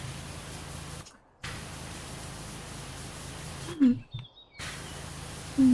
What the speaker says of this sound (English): Spray ASMR.